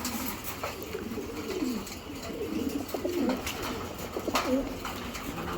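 Racing homing pigeons of the Giribaz breed coo steadily inside a loft, several birds overlapping in soft, rolling murmurs at close range with a faint background hiss.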